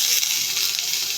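Diced onions and capsicum sizzle steadily in a hot pan, a continuous bright hiss at moderate level with no talking.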